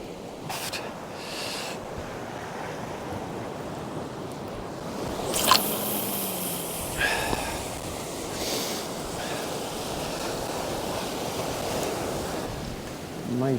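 Sea waves and swell roll onto a rough-ground shore in Northumberland, a broad continuous surf roar with a couple of sharper breaking surges and some wind noise.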